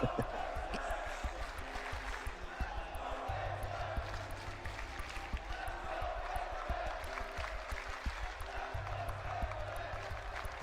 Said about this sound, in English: Sigaw pa rin ng crowd.